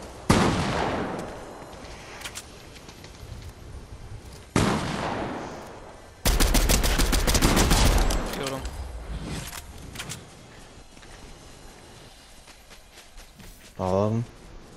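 Gunshots ring out in a Fortnite duos match: sharp loud bursts, then a sustained volley, fading into quieter distant shots, with voices talking over the action.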